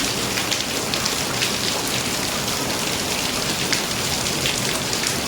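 Heavy rain pours down at night in the small hours, a dense, steady hiss that stays loud and even from start to finish with no voices.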